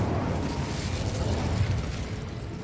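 Incendio fire spell cast in Hogwarts Legacy, a loud rumbling whoosh of flame with crackling bursts that holds steady throughout, no talk.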